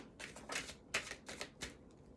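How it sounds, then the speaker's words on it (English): A deck of tarot cards is hand shuffled in quick papery riffles and slaps, about six bursts in an uneven rhythm, soft and close with no talk. "Hand shuffling."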